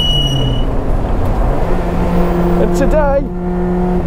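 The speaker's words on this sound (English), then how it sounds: "in the Lotus Elise with the new ECU and exhaust and the newfound power of 260 at the flywheel." A Lotus Elise Cup 260 with a new ECU and exhaust, tuned to 260 at the flywheel, revs and pulls at a circuit, its engine note rising and falling close by under a voice, with other cars around.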